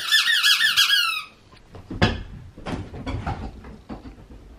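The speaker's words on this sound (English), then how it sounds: "We have a pink spiky and squeaky ball." A pink spiky squeaky dog toy ball squeezed several times in quick succession, sharp rubbery squeaks up close, followed by soft handling and knocking sounds.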